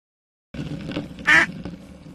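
A cartoon duck quacks in a Little Critter children's app, a short nasal quack rising out of soft background sound after a brief silence.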